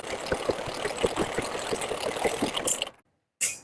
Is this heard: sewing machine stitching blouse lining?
yes